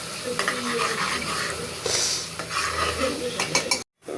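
Onions sizzle and crackle in hot oil while a utensil scrapes and stirs the pan, close by, with faint background noise and brief clinks.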